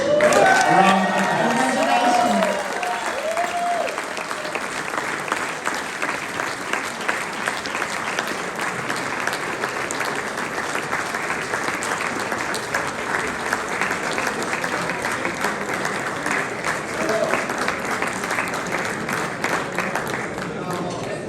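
Sustained applause from a large crowd at a gala dinner award presentation, loud and continuous, with a voice briefly heard over it at the start.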